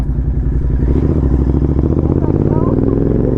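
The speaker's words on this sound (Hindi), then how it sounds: "तो चलो इन्हें एक राइड दे के आते हैं।" A modified Royal Enfield GT 650 motorcycle carries a rider and passenger. Its engine holds a loud, close, steady rumble throughout with a rough, clattering texture.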